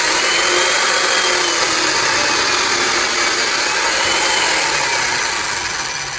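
A Makita mortising machine chopping a mortise into a timber-framing beam: a loud, continuous motor roar with grinding cutting noise that holds steady, then eases slightly toward the end, with no talk.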